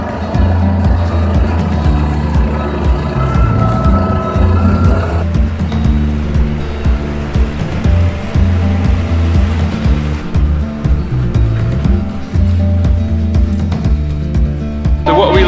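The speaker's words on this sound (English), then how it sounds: "Going for a little jolly in the tractor." Farm tractor engine running steadily throughout, a loud close low rumble with rhythmic mechanical chugging and occasional rattles, people talking faintly over it.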